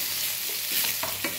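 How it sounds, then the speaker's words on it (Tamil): Onions stirred and sautéed in a pan for an egg gravy, a few close spoon scrapes over a steady background sizzle, brief and moderately loud. "அப்பப்போ ஒரு நிமிஷத்துக்கு ஒரு டைம் வெங்காயத்தை வதக்கி விடுங்க"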